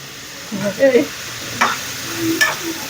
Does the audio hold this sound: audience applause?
no